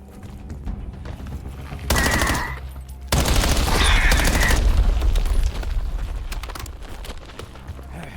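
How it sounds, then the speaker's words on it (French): Gunfire in the Call of Duty Black Ops 7 campaign, sustained rapid automatic bursts that are loud and close, starting and stopping in dense stretches over a rumbling game background. "Tirez sur ces excroissances pour tuer la plante."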